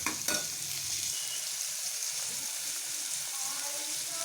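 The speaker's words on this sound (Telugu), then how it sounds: "వీటిని మంచిగా ఫ్రై చేయాలి" Chopped vegetables frying in oil for an amaranth leaf curry, a soft continuous sizzle close by with occasional stirring scrapes, fairly quiet and steady throughout.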